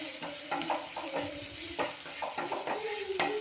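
Pasta ingredients fry and sizzle in coconut oil in a pan while being stirred, with a steady crackling hiss and repeated scraping stir strokes close up.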